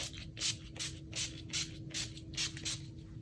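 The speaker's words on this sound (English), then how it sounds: "I'm gonna spray my face." Several short hissing bursts of NYX Matte Finish setting spray on a face in a steady rhythm, about eight quick spritzes close by, with a faint hum underneath.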